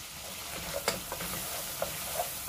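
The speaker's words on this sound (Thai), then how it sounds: "เราก็มาเริ่มผัดหัวกุ้งกันจ้ะ เราจะใส่ขิง" Shrimp heads and a little ginger stir-fried in garlic oil, a continuous close sizzle with a few soft scrapes and taps of the spatula against the pan.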